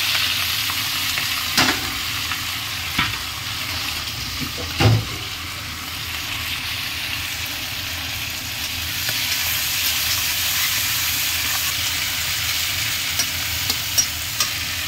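Loud, steady sizzle of small shrimp frying in hot oil, with a few sharp clinks and stirring knocks early on; no talking.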